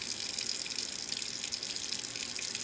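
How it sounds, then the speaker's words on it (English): Warm tap water runs steadily from a faucet into a sink while a vinyl record is being washed, a constant close hiss and splash with no talking. "And we do have our water running."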